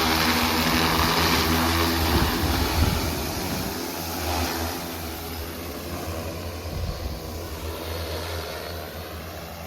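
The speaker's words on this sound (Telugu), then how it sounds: "ఇప్పుడు ఈ డ్రోన్ సౌండ్ అయితే విన్నాము" Agricultural spraying drone flying over a crop field, a continuous buzzing whine of propellers with steady tonal hum that swells slightly and fades as it passes, heard alone without talk.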